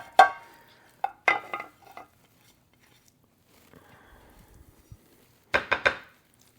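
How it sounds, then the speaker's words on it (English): A utensil scrapes shepherd's pie filling from a pan in a home kitchen, giving a few sharp clinks and scrapes separated by quiet pauses, then a closing burst of scraping. "we're just going to get the rest of this filling out of the pan here"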